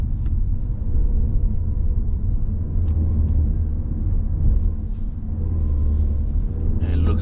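A Mazda 6 20th Anniversary Edition climbs a hill road at Genting, its engine a steady low rumble with road noise, rising and falling slightly, loud and continuous.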